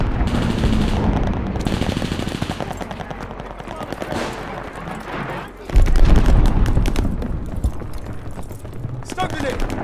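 Gunfire and grenade blasts in a Call of Duty Vanguard match, with rapid automatic bursts from a Charlton automatic rifle rattling nearly nonstop, then a heavy explosion boom midway followed by more dense firing.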